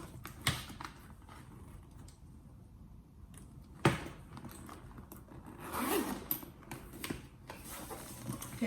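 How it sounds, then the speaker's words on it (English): A zipper on a Coach Lillie Carryall handbag is pulled open in a few short, scratchy bursts, close and fairly quiet, with soft handling rustles between the pulls and no talking. "We're gonna start with the zipper part. You can only zip on the one side."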